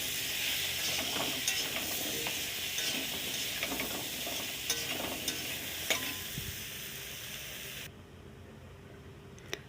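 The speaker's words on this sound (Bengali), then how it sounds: "ওইদিকে পটল ভাজা হতে দিয়েছি, হালকা করে জাল দিয়েছি" Pointed gourd pieces seasoned with salt and turmeric fry gently in a pan, a steady close hiss of oil broken by scattered pops and the odd scrape, ending in a sudden drop to near quiet.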